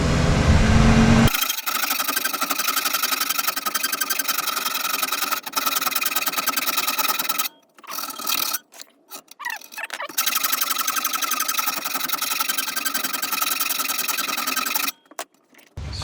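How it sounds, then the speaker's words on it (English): Powered filing tool elongating a bolt hole in a metal alternator bracket into a slot, a loud, continuous high buzzing grind close up, broken by a few short pauses. "I have to file this hole down. Make this hole slotted coming down."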